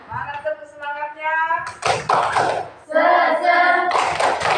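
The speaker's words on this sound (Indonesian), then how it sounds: "Mana tepuk semangatnya?" A class of students performs the rhythmic tepuk semangat, bursts of patterned hand clapping alternating with chanted voices in a loud classroom.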